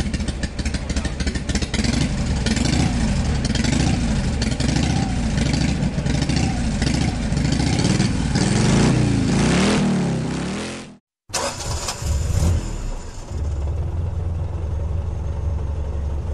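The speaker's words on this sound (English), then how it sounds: "Motorcycle." A motorcycle engine revs loudly and repeatedly, rising and falling in pitch, then cuts out briefly before another engine roar resumes.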